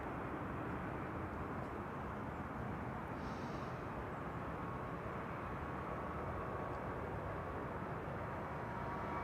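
A KLM airliner bound for Oslo passes by in the foreground at Amsterdam Schiphol Airport, its engines making a steady, loud, broadband roar that holds evenly throughout with no voices.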